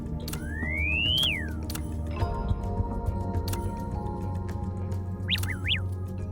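A bird chirps in the Black Beacon video game, with a long rising whistle early on and a few quick chirps near the end, over game music and background ambience.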